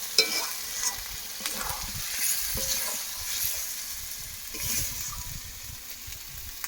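Goat meat curry frying in a pan, a steady close sizzle with repeated scraping stirs of a spoon against the pan.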